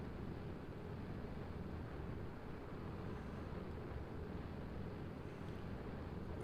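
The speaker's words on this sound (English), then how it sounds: "Man, this engine means business." A plane's aircraft engine in Kerbal Space Program gives a steady, low, rumbling roar that holds evenly throughout, fairly quiet and without talk.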